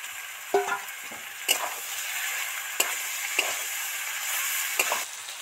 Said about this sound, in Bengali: এবার কড়ার মধ্যে এই ভাজা ঢেঁড়সটা দিয়ে দিচ্ছি।